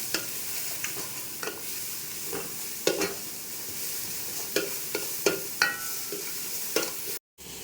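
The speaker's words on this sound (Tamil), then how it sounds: "வெஜிடபிள்ஸ் எல்லாம் நம்ம வந்து ஃப்ரை பண்ண வச்சு ஒரு 5 to 6 minutes ஆகிடுச்சு." Vegetables for chicken fried rice stir-frying in a pan over a low flame, a steady close sizzle broken by repeated scraping strokes of a spatula, alone with no talk.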